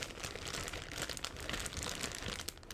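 A plastic bag holding chess pieces crinkles and rustles steadily up close, a dense continuous crackle with no pauses and no voices.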